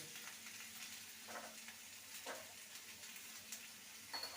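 Vegetables for a spinach ghonto fry with a soft, steady sizzle in a pan, with faint scraping stirs now and then, quiet and close.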